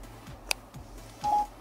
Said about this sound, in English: it just makes the call from my phone, but it comes through the car speakers